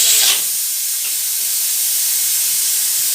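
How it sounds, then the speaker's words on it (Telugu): A pressure cooker of mutton curry releases a loud, continuous hiss of steam under pressure, starting with a slightly sharper burst and then holding steady and close. "ఇది మొత్తం ఆవిరి వెళ్ళనివ్వాలి"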